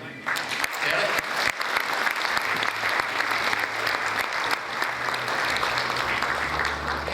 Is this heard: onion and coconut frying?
no